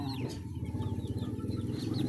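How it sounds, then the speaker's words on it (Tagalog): Rhode Island and Shamo crossbreed chickens, large birds, cluck nearby in quick repeated low pulses, with faint chirps over a soft background. "Mga dagkoon mga manok."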